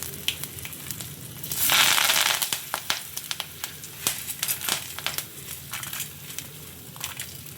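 Mustard seeds, curry leaves and asafoetida sputter in hot oil, a close burst of sizzling followed by scattered sharp pops and crackles.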